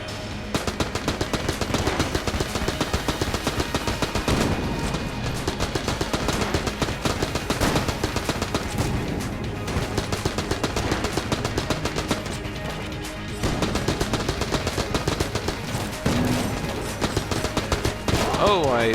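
Rapid, continuous AK-47 fire in the video game Enter the Gungeon, dense bursts of gunshots repeating throughout with brief pauses and occasional explosions, mixed with game music.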